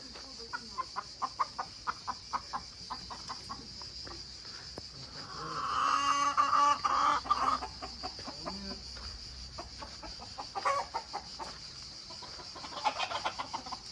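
Chickens clucking in short, scattered calls with a busier burst of fowl noise midway, moderately close against steady background hiss.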